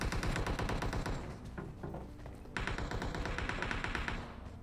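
Rapid, dense bursts of automatic gunfire in the mobile battle-royale game PUBG Mobile, loud and sustained across the clip with a brief lull in the middle, with no talking.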